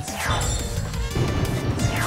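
A crisp smashing, shattering effect sounds as a contract card is opened in the baseball mobile game Pro Spirit A, loud and busy, with quick cracking impacts and no voices.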